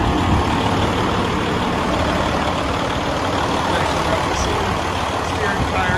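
A 2016 Freightliner Cascadia 125 Evolution truck engine, almost up to full temperature, runs as a steady, loud diesel rumble with a broad noisy hiss, unchanging for the whole stretch.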